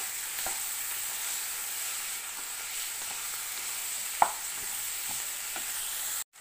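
Onions frying in a pan for chutney hiss with a constant, even sizzle, joined by a few soft spoon taps and one sharper clank before the sound stops suddenly.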